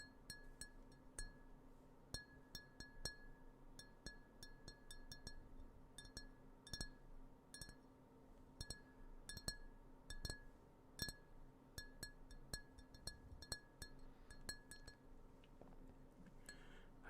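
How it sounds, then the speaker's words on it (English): Tapping on a tall, thin Tom Collins glass gives many light, ringing clinks in irregular clusters, each leaving a short bright tone, quiet and close in a calm setting. "I basically just grabbed one of my Tom Collins glasses, since they're quite tall and thin."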